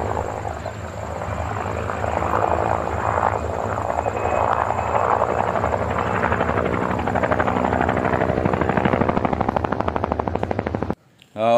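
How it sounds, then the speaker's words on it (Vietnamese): Steady, loud helicopter rotor thumping close by, continuous for several seconds before cutting off abruptly near the end. "Chỉ lấy tiếng trực thăng thôi."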